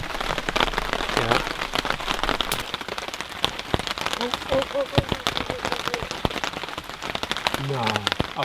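Steady rain pours down outdoors in the wilderness, a dense close patter with sharp individual drop hits on surfaces. Voices talk faintly underneath at times.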